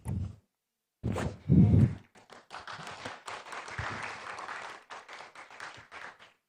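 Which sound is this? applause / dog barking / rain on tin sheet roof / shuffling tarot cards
applause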